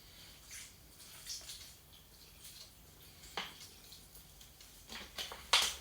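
Water poured over beans with minced garlic for refried beans, soft intermittent splashing and trickling that grows louder toward the end, ending in a brief sharper splash.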